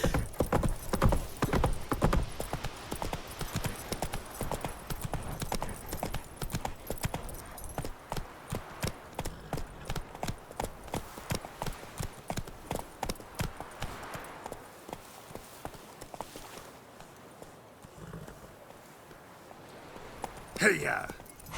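Hooves of Roach, the horse in The Witcher 3, trot in a quick steady clip-clop up close, then slow to scattered steps and fade, with someone speaking over them.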